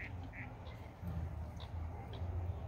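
Ducks at a lake quack repeatedly in short nasal bursts, close and fairly clear, over a low background murmur with faint talking.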